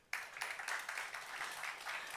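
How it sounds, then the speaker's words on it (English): Steady audience applause for a speaker at a tech conference main stage, starting abruptly and continuing as an even, moderately distant wash of clapping without talk. "give him a round of applause"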